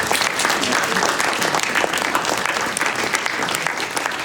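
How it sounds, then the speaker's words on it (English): Sustained, dense audience applause fills a concert hall at a science-and-music performance at the Harvard & Smithsonian Center for Astrophysics, steady and loud throughout with no voices over it. "So Philip, take a round of applause, Philip"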